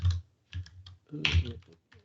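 Computer keyboard keys being typed to enter a Linux command, heard as a few short irregular bursts of clicks close to the microphone, mixed with voice-like sound.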